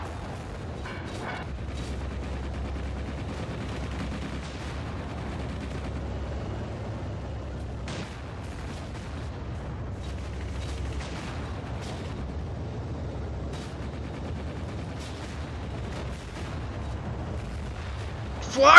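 Distant artillery and gunfire in WW2 Online, a low continuous battlefield rumble with scattered muffled shots and bursts throughout, ending in one sharp louder report.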